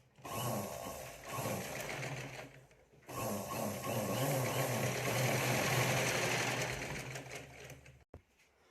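A sewing machine stitches a fabric pouch in steady close runs, pausing briefly after a few seconds and then humming on before stopping near the end.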